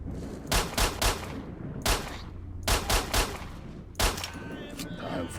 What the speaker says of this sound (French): mais je tire dessus, il meurt pas.